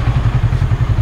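A Yamaha R15 motorcycle engine thrums on an evening ride in Eco Park, Kolkata, a loud, close, low pulsing beat repeating rapidly and evenly throughout, with no talking.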